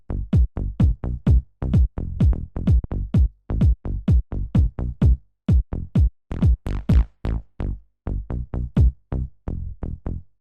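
A 90s house synth bass from an Ableton preset plays a bouncy pattern of short, punchy plucked notes with fast pitch drops. The notes are loud and evenly rhythmic, with a quicker fill near the middle.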